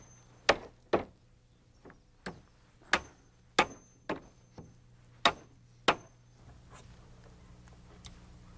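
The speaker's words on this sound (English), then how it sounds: "all I need to do is finish nailing off the risers" Hammer blows nailing off wooden risers on a staircase being built for a timber-frame house: nine sharp, separate strikes at a steady rhythm, close and clear, with quiet room tone after.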